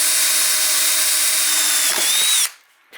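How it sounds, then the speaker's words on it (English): A power drill whines at high pitch as it bores a center hole in metal for a scooter sprocket, bogging briefly before cutting off abruptly. "we're going to start by drilling that center hole"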